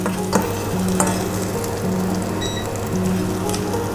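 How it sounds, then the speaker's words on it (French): Shallots sweat in olive oil in a pan on the stove, giving a steady, close, even sizzle and crackle throughout with a few soft stirring knocks. "On va mettre les échalotes qu'on va laisser un petit peu suer."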